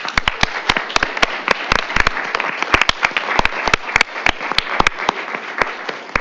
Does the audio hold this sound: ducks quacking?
no